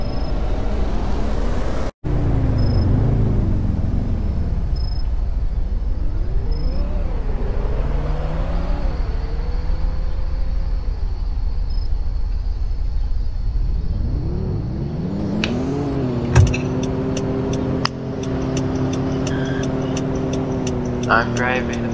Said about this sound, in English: I'm driving a Ford F-150. Very nice truck.